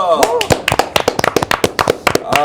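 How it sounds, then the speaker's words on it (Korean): A studio host claps in sharp, quick bursts, close and loud, with short pauses between runs of claps and voices mixed in around them. "박수 소리는 제가 가장 큰 것 같다."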